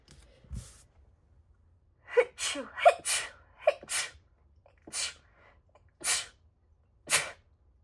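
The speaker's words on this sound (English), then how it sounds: "I'm gonna sneeze." A single sharp sneeze follows an inhale, then several breathy gasps and exhales spaced apart in a quiet room.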